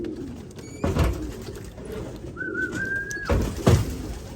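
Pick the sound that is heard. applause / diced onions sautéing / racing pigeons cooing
racing pigeons cooing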